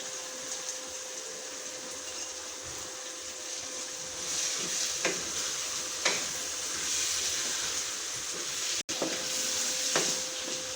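Green chillies and spinach sizzle in a frying pan for daal tarka, a continuous close crackling hiss with occasional stirring scrapes and a few sharp clicks.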